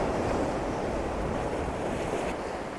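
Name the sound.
waves of rough water at high tide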